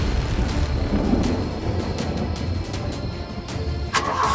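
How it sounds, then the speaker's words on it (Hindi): Loud thunder crackles and rumbles through a rainy night storm in a Hindi cartoon horror story, a dense continuous roar with a sharper crack near the end. "तभी जोरदार बिजली कड़कती है"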